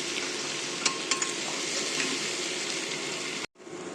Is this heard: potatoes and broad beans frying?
yes